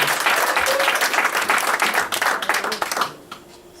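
A church congregation bursts into loud, dense applause at a worship service, sustained for about three seconds before quickly thinning out and fading to quiet.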